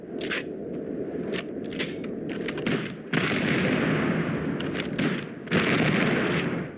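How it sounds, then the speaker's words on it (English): A Coachman gun loaded with volatile rounds firing in the video game Starfield, a dense, loud crackling barrage of rapid shots that swells in two surges, with no talking. "the Coachman with volatile rounds does sound slightly louder"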